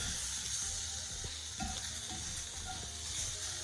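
Filet mignon steaks sear in a hot skillet with a steady, dense sizzle, and faint scrapes and clinks come through as the meat is turned.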